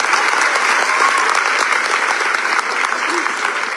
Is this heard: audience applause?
yes